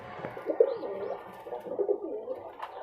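A yellow-eyed female tumbler pigeon recovering from molting coos softly and nearby in two or three short, low, warbling phrases against a quiet background.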